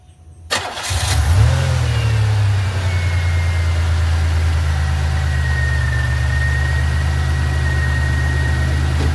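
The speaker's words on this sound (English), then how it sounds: "We'll start the car up and see if we can get this sucker cold." A 1991 Buick LeSabre cranks over and fires up, then settles into a steady, loud idle that drones on close by with a faint high whine above it.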